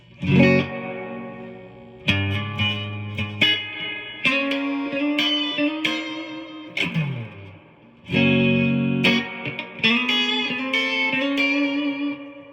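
Clean electric guitar chords and single notes through an old Marshall JCM900 amp ring out with a wash of spring-like reverb, strummed in bursts with lingering tails and short pauses.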